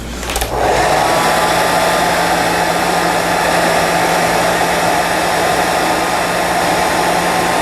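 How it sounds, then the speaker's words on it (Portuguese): A hair dryer switches on after a brief click and runs loud and steady at close range, drying white paint on a small craft wheelbarrow decorated with roses. "Aí eu vou secar no secador e repetir aqui."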